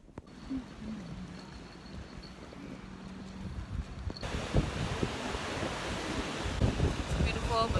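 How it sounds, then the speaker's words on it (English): Strong gusty wind buffets the microphone on a beach, building to a loud, continuous roar with a faint wash of surf beneath, no clear speech over it. "It's beautiful, but it's super windy."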